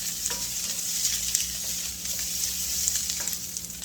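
Vegetables fry and brown in a hot pan, giving a steady bright sizzle with light crackles and occasional stirring. No one speaks, and the sizzle holds at an even level throughout.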